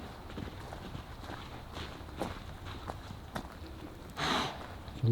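Horses' hooves clip-clop irregularly at a moderate distance on a rainy day, a scattering of soft, uneven steps with a brief louder scuffle near the end.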